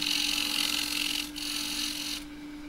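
A turning tool takes a shear cut across a wide-rim box-elder bowl on a lathe running near 1500 rpm, giving a steady bright hiss of shaving wood over a constant motor hum, with a brief break midway before the cut fades out.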